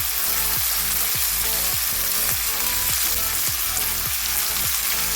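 Washed pumpkin pieces going into a pan of reddened frying garlic, a loud continuous sizzle broken by a regular series of scraping stirs close by.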